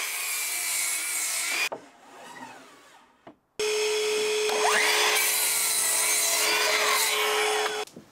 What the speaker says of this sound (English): I've got some 4x2s that I'm gonna get cut down in the tent on the miter saw for